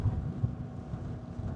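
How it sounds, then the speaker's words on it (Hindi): Strong wind at sea crossing the Drake Passage toward Antarctica, a steady low roar buffeting the microphone with gusty rumbling throughout, fairly quiet and with no speech. "इतनी ज़्यादा हवा चलती है यहाँ पर।"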